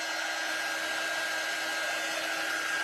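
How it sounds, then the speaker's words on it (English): A quick-dry craft heat tool blows steadily to dry ink, a constant, even whirring hiss that runs unbroken and close throughout, with no voices. "this dryer, this is a quick dry tool"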